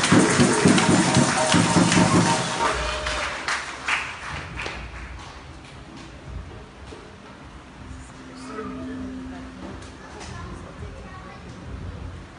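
A church congregation at a Paris worship service bursts into applause for the Lord, a dense loud clatter of clapping that fades into quieter scattered claps beneath a speaking voice.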